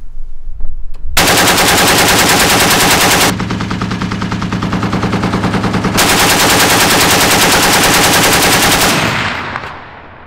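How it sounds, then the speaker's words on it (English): A heavy tripod-mounted minigun fires in two long, continuous, extremely loud roaring bursts with barely a pause between them. It ends in a fading spin-down. "Minigun."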